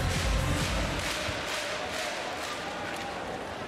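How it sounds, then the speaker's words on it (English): A crowd cheers and roars at a beach volleyball world championship match, a dense, steady wash of applause and shouting that swells at the start and then holds at a slightly lower level. "The crowd erupt again here to Johnny Depp's name."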